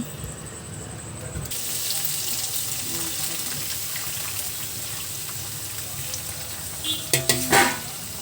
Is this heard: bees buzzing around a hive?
no